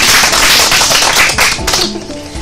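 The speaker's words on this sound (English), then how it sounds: "Clap for yourself." Children clap their hands together in a burst of loud, dense, uneven applause that tapers off toward the end, with no voices over it.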